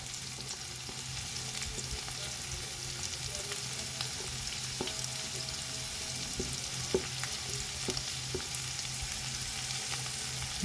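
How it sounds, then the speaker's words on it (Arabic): Red, yellow and green bell peppers sautéing in a pan give a steady, even sizzle with faint occasional stirring taps, moderately quiet and continuous, without talk. "يدوب بس هيتشوحوا كده بس تشويحتين."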